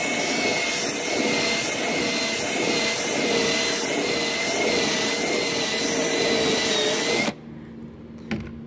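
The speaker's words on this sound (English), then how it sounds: "and we're going to use this bit to do it." A power drill bit whirs loudly and steadily against car body metal, cleaning around a freshly bored grounding bolt hole, then cuts off abruptly, leaving a brief faint rattle.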